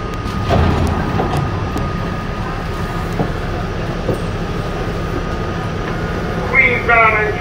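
A 1987 Westinghouse R68 New York subway N train runs through the tunnel with a steady loud rumble and rattling wheels, a few clicks along the track and a brief high squeal near the end.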